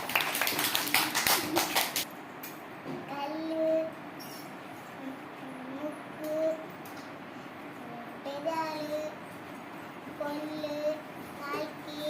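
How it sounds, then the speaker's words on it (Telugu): A group of children claps for a classmate during a school activity session in Nellore, a dense burst of hand claps lasting about two seconds before an adult voice and children's voices take over. "క్లాప్స్ కొట్టండి నితిన్కి"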